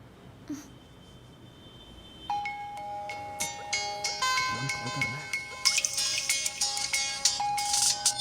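A phone rings with a bright, repeating electronic ringtone melody that starts a few seconds in and continues steadily, fairly close, with faint breathy sounds early on.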